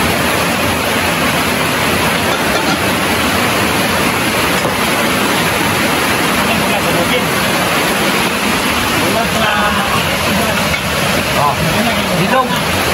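A river runs steadily beside a farm field, its broad rushing roar loud, close and unbroken for the whole stretch, with a voice speaking briefly over the water.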